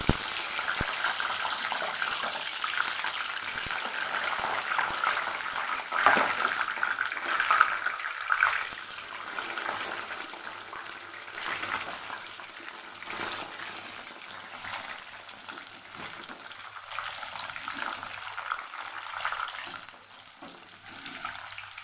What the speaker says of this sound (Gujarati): તો પહેલાં આપણે રીંગણાની ચિપ્સ તળી લેશું